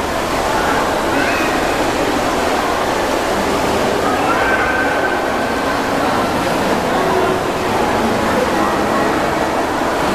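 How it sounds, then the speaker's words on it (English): A replica Trevi Fountain inside the Shinsegae department store gives off a constant, dense rush of splashing water, loud and unbroken throughout, with faint indoor background noise. "We're standing right in front of Trevi Fountain."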